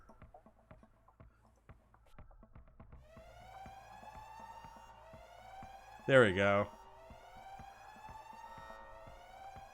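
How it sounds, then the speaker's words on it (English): A game session's alarm sound effect wails in repeated rising-and-falling siren tones over soft ticking, with a person speaking briefly in between and a short louder burst. "Oh wait, I have my alarm sound."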